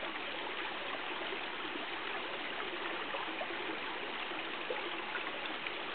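A mountain river near a waterfall rushes in a steady, dense broadband roar, close and continuous without pause, with no voices over it.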